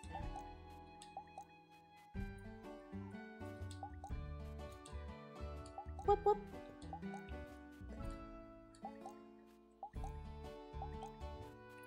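Crops being watered in the farming game Moonstone Island: a run of soft, repeated watery drip and splash effects over quiet tonal game music, with a voice briefly exclaiming partway through.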